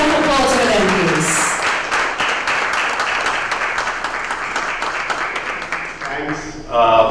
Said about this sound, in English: We have a huge round of applause for them, please.